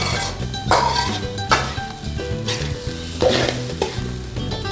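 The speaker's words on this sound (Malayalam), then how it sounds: "തേങ്ങ ചുമന്ന് വരുന്നവരെ നമുക്ക് ഇളക്കി ഇളക്കി വറുത്തോണ്ടിരിക്കണം" Grated coconut being stirred and roasted in a hot pan for prawn chammanthi podi, with steady scraping strokes over a continuous close sizzle and occasional light metallic clinks.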